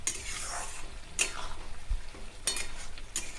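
Aloo posto, potatoes in poppy-seed paste, stir-fried in mustard oil: a soft continuous sizzle with repeated scraping strokes of a spatula against the pan, three or four sharper scrapes standing out, no voices.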